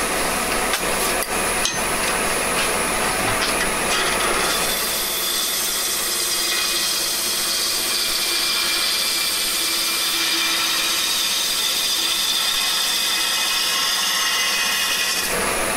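A bowl gouge cuts a spinning wooden lamp base on a woodturning lathe, making a steady loud scraping hiss with a constant hum beneath it, unbroken for the whole stretch.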